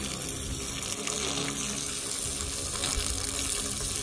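Water is poured down a driven sand point well pipe, giving a steady, close rushing and splashing that runs unbroken for the whole few seconds.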